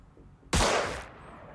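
A single sharp gunshot blast in the X Division video game, loud and sudden with a short decaying tail, alone without talking.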